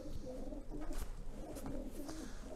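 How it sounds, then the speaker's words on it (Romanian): A strong, tame pigeon coos in low, repeated throaty rolls, heard close and steady throughout with a faint background hum. "ce porumbel puternic"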